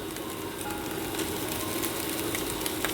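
Egg chowmein noodles tossed into a hot pan for street-style frying give a steady, close, loud sizzle that crackles evenly throughout, with no talking.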